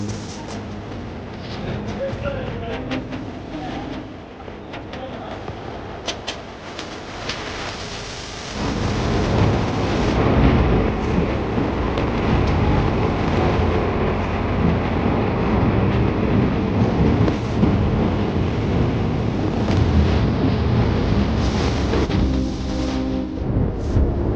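Continuous heavy rumbling and rattling of a moving train heading to Coimbatore near Palakkad, swelling noticeably louder partway through and staying loud to the end.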